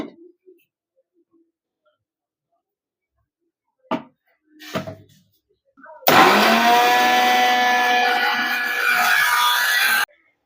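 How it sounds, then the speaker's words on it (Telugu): Kitchen mixer grinder whirring loudly as it blends coriander, mint and green chillies for green chicken curry, a steady harsh grinding roar lasting about four seconds after brief quiet handling sounds. "ఇప్పుడు మిక్సీ పట్టుకుందాం"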